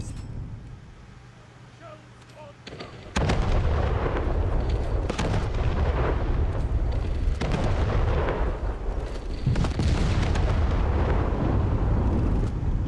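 Heavy naval cannons of a Kronshtadt heavy battlecruiser in War Thunder Mobile fire repeatedly in booming bursts, with loud, dense blasts that start abruptly after a few seconds of quieter ambience and keep thundering with little pause.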